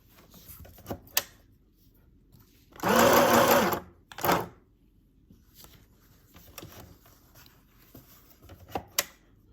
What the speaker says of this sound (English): This is a more narrow zigzag.